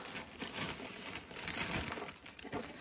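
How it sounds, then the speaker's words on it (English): Packaging crinkles and rustles steadily as fabric is pulled out of a small shipping box, a close, continuous crumpling with a few sharper crackles and no talking. "I'm not going to apologize for the crinkling."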